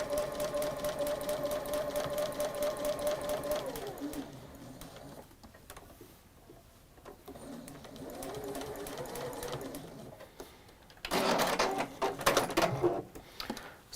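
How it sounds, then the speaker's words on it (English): A domestic sewing machine fitted with a walking foot stitches around a fabric shape, running in steady rhythmic bursts with a brief pause and a louder, faster run near the end, close and clear with no talk. "So I've sewn around that shape."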